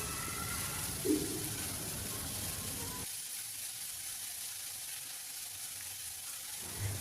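Onions for a potato paratha stuffing frying in a pan, a soft continuous sizzle that thins out partway through, with a couple of faint knocks over the low hiss.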